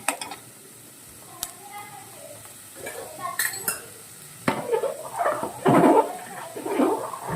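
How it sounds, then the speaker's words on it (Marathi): A ladle stirs cooked rice in a pot on a high gas flame. Soft scrapes and clatters come in irregular bursts, with a faint sizzle and low room noise in the background. "भातात पळी मारून घेते"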